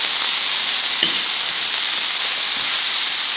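A tomahawk steak seasoned with sea salt and steak spices sizzles steadily and loudly in a hot pan while it is turned, with a continuous bright frying hiss and a brief clatter partway through.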